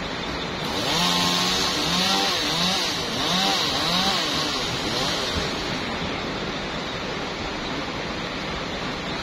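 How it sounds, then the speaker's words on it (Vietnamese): A chainsaw cuts branches from a large eucalyptus tree near a bee nest, giving a continuous, rough, fairly distant buzz, with a voice talking over it early on. "Máy cưa đó quá bén."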